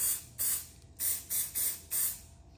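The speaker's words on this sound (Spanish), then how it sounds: "Vamos a utilizar el spray anti burbujas para" Anti-bubble spray hissing in six short bursts with brief pauses between them, misted over freshly poured resin coasters, close and fairly quiet with no talking.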